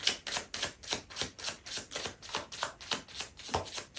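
Tarot cards riffled and shuffled in rapid rhythmic bursts, about a dozen crisp even flutters in quick succession, close and clear with no talking.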